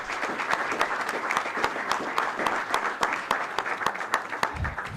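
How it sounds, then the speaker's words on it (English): Audience applause for a student at a school board meeting, steady dense clapping from a room of people that carries on evenly throughout with little talk. "Clap it up."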